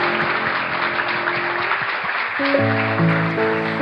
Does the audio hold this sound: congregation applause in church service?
yes